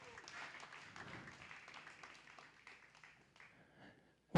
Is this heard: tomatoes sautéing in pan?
no